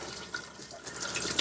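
Liquid poured down the drain of a 2021 Keystone Hideout 175BH travel trailer during winterizing, a soft, steady splashing trickle running for a second and a half, close by, with no talking.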